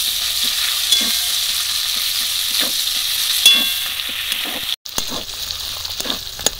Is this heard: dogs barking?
no